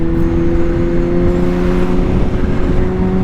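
A 2023 Kawasaki ZH2 supercharged motorcycle's exhaust roars loud and close, a sustained revving engine tone with steady droning harmonics throughout.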